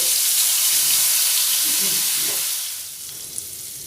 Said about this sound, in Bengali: এবারে খিচুড়ির জন্য আলুগুলো ভেজে নেব। আলুগুলো আমি এইভাবে বড় বড় ডুমো ডুমো করে কেটে নিয়েছি, গরম তেলে দিয়ে দেব।